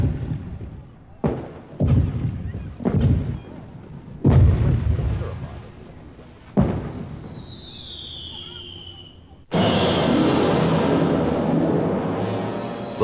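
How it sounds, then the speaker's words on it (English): Dramatized Congreve rockets fired at the anchored French fleet in a harbor: a string of sharp, loud launch thumps, then a rising whoosh of a rocket and a sustained roaring blast that fills the rest of the scene. "Captain, the rockets are ready. They may commence firing now."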